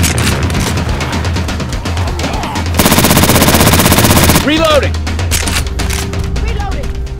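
Rapid automatic gunfire in Left 4 Dead 2, loud sustained bursts of shots that merge into a dense roar mid-clip, with players' voices and game effects around it.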